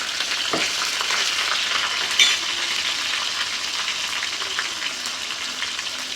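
Cumin, mustard seeds, dried red chillies and garlic crackle and sizzle in hot oil for a tempering, a steady close frying hiss with a few sharp pops and stirring clinks, no voices.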